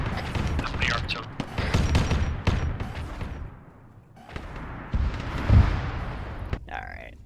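Artillery fire in the video game Arma 3: a string of heavy booming blasts and rumbling impacts, loud and close, fading into a low rumble and then another burst of blasts, with a brief higher electronic tone at the end.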